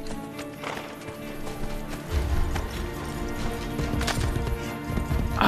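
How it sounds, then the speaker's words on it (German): Rhythmic hoofbeats of a horse galloping away in the game Assassin's Creed: Brotherhood over continuous game music, growing louder and busier toward the end. "jetzt reitet er mit dem Pferd weg"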